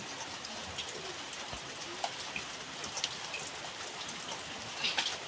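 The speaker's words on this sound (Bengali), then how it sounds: "দেখছেন কেমন অবস্থা, গোটায় বৃষ্টি জল পড়েছে।" Steady rain patters down continuously outdoors, a dense even hiss with scattered louder drops striking surfaces throughout.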